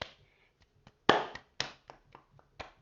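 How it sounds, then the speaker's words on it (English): A handful of separate, sharp hand claps with uneven gaps between them, close and dry, plus a few fainter taps in the quiet spaces. "He's gonna hear that you're freaking nervous because you're freaking clapping"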